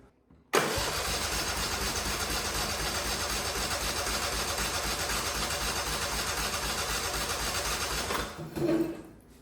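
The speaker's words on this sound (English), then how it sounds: "Let's see about getting this thing bottle fed and try to get it running that way." A barn find engine fires up on fuel bottle-fed into it and runs loud and steady at a rough idle for about eight seconds, then cuts out abruptly, leaving faint rustling.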